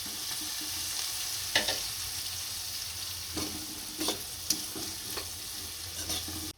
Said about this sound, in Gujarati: હવે આપણે આની અંદર કાપેલી ડુંગળી નાખીશું અને શેડવી લઈશું